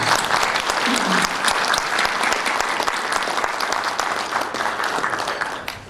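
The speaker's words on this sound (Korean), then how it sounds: "뜨거운 박수 부탁드립니다." Steady, dense applause from a seminar audience at a breakfast forum in Seoul, many hands clapping continuously for several seconds and tapering slightly toward the end, with no voices over it.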